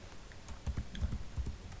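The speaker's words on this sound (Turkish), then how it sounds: "Caps Lock tuşumuza bastığımızda harflerin büyük olarak yazdığını görmekteyiz" Keys clack in short bursts on a computer keyboard, including a press of the Caps Lock key, as a few quick, soft keystrokes sound close by with no voices.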